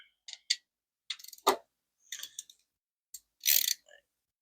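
Close, crisp clicks and ticks from a ratchet fitted with a 5/8 socket as it loosens the oil drain plug on a Harley-Davidson Sportster 1200, coming in short irregular bursts with silent gaps, one louder rasping pull near the end.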